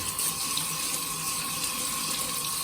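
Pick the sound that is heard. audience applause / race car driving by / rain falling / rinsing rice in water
rinsing rice in water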